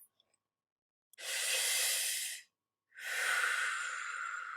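Two long, deep breaths drawn close to the microphone, each a breathy rush lasting over a second, separated by a short silence.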